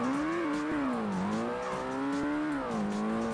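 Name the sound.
Ford Mustang car driving in Ford Racing video game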